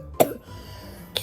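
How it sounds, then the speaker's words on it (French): A woman gives two short, sharp coughs about a second apart, close and fairly loud, with quiet room tone between them. "Qu'est-ce que j'ai à tout le temps tousser comme ça?"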